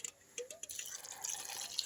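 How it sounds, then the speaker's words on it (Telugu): Boiled water trickling and splashing into a vessel, a soft continuous pour with small drips, fairly quiet and close. "ఇదిగోండి మరగబెట్టిన నీళ్ళు పోస్తున్నాను చూడండి."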